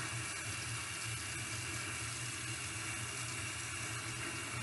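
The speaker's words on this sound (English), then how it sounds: "fill it one more time and I'm gonna rinse it one more time." Running water filling a basin for rinsing crochet hair, a steady, even rush of flowing liquid heard close and alone for a few seconds.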